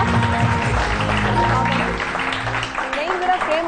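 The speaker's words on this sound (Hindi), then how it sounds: "तालियों" Clapping from a group at a makeup show fills the clip steadily, mixed with a voice talking and background music throughout.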